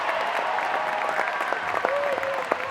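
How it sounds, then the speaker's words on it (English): Crowd cheering, clapping and chanting at the Dome in Swakopmund during a Namibia vs South Africa women's match, a loud continuous roar of applause with sharp claps throughout. "The crowd, of course, is chanting. The crowd is chanting."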